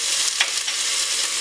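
Mutton fries in a hot pan with ginger garlic paste and a paste of green chilies, giving a loud, steady close sizzle with brief crackles throughout.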